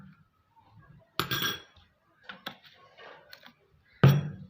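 A spoon clinks against a small container while a homemade skin cream is stirred, with a few sharp strikes spaced across a quiet background and fainter scraping between them.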